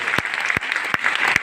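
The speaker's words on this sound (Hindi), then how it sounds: "जोरदार तालियां" Enthusiastic applause fills the hall at a DXN direct-selling meeting, a dense, steady wash of many hands clapping nearby with a few sharper claps standing out.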